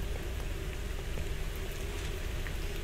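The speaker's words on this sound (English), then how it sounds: "All I could hear was the sound of rain." Steady rain falls outside a bunker in the video game Bunker 16, a soft continuous hiss with faint scattered drops, even and unbroken throughout.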